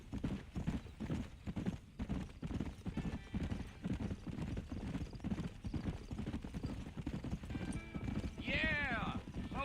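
Steady horse hooves clip-clop through the whole stretch in a Western setting in the game Red Dead Redemption. A voice talks over them, and a horse whinnies near the end.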